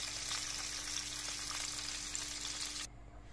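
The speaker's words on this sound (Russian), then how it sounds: "с другой стороны у нас печень также обжарилась" Steady, crackling sizzle of chicken liver frying in a hot pan, moderately loud and close, cutting off abruptly near the end.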